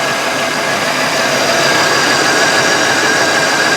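A 1988 Lincoln Town Car engine runs steadily just after its first start, a loud, close, even idle drone with a faint high whine and no voices.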